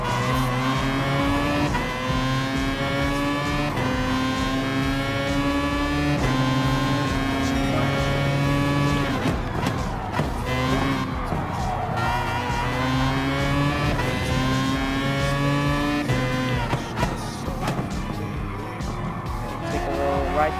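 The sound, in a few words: race car engines in the video game Gran Turismo Sport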